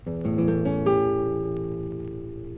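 A single A seventh chord strummed on an acoustic guitar, notes rolling in quickly, then ringing out and slowly fading.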